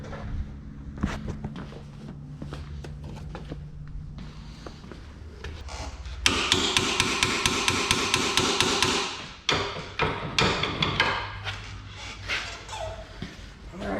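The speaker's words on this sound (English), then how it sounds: "This guy right here is gonna get tapped up with the hammer." Rapid, evenly spaced hammer blows ring out on a Hummer H3 steering shaft close by, a fast series of sharp metallic taps, preceded and followed by scattered knocks and handling.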